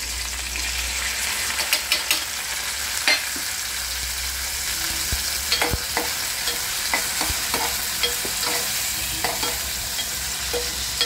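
Onion, curry leaves and tomato sizzle steadily in a hot pan while a spoon scrapes and stirs in irregular bursts, close and continuous, with no talk.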